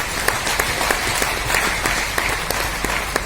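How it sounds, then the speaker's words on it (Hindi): Loud applause from an audience at a Hindi-language talk, a continuous dense clapping with a few sharper individual claps standing out near the microphone, running steadily for over three seconds. "जोरदार तालियां CWA"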